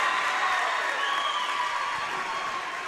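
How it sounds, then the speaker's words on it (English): A girls' basketball bench claps and cheers amid crowd noise in a gym during a high school playoff final, a steady, moderately loud wash of applause and voices. "You could hear the bench clapping before that one fell"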